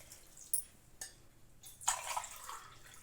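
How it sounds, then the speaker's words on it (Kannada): Two glasses of water poured into a cooking pot, heard as a faint, short splashing pour with a few soft drips before it in a quiet room. "ಇದರಲ್ಲಿ 2 ಗ್ಲಾಸ್ ನೀರು ಹಾಕ್ತಾಯಿದ್ದೀನಿ"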